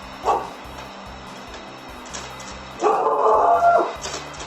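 An angry dog barks at a robot vacuum, with one sharp bark near the start and then a longer, louder run of yapping barks close by over a low, pulsing machine hum.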